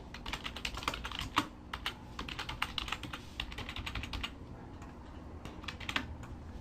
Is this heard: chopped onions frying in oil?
no